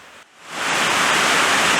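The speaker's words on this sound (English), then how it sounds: "It's absolutely pouring down. Thunder and lightning." Heavy rain pours down in a thunderstorm, a dense, steady broadband roar that swells in within the first half second and then holds loud and unbroken, with no voices.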